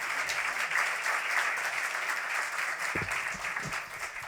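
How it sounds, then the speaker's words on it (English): A gala audience at the 2024 QWF Literary Awards claps steadily, a full, even wash of applause filling the hall, with a few low thuds of movement near the stage toward the end. "So please give Alex and Joe a nice round of applause as they come up here."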